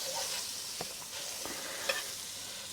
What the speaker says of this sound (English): to cook it in butter, and that's what I'm going to do